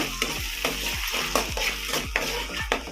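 Masala Maggi noodles are stirred with green chilli and tomato sauce in a sizzling pan, with regular scraping strokes about every half second. The strokes sound close and fairly loud over a steady fry, with no voices.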